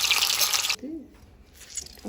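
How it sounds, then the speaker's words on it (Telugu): Chopped bitter gourd squeezed by hand, giving a loud burst of wet, splashing water release for under a second, then near quiet with faint drips and a soft trickle. "ఇలా కాకరకాయలని స్క్వీజ్ చేసుకోవాలి దాంట్లో ఉన్న వాటర్ అంతా పోయే వరకు"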